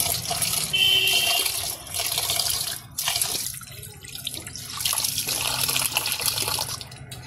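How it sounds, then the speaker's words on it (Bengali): Basmati rice being rinsed with water in a village kitchen, a steady run of splashing and trickling water with soft sloshing, close and continuous, with brief quieter dips, without any talk. "এদিকে চালগুলো ধুয়ে নেই, চাল ধুয়ে একটু ভিজে রাখি।"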